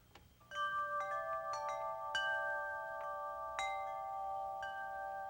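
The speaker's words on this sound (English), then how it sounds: "No, that was wind chimes." Wind chimes recorded for a guessing game, several bright ringing metallic tones struck one after another and sustaining together, moderately loud and alone.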